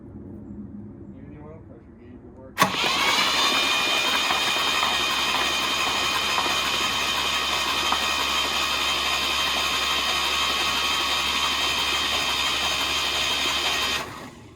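A 1967 Jeep CJ5A Dauntless V6 engine, previously seized, is cranked over by the starter with a steady whirring drone that kicks in abruptly and runs about eleven seconds before cutting off, preceded by brief quiet talk.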